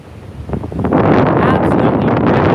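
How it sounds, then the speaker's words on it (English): Hurricane Beryl's winds batter the coast, starting as rustling and building within a second into a loud, roaring gust that buffets the microphone and stays strong throughout. No speech is heard. "Winds are already picking up out here."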